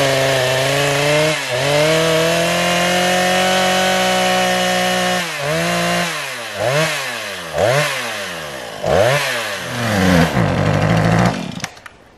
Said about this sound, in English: Chainsaw's not cooperating.